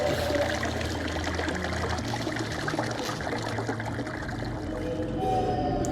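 Water slowly draining from a clogged shower, a continuous gurgling trickle with low sucking and glugging tones, steady and fairly close.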